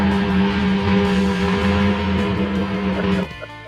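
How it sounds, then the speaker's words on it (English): Engine of a French-built car assembled in America droning steadily and loud with a gritty, distorted tone, holding a constant pitch before cutting off abruptly near the end. "You like those engine noises?"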